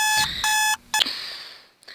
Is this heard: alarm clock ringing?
yes